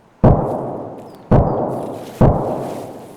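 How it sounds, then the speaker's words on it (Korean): Three slow, evenly spaced single shotgun blasts ring out in a video game, each a loud, sharp report about a second apart that trails off into a long fading echo, with no talking over them. "총소리가 단발로 느린 단발로 샷건"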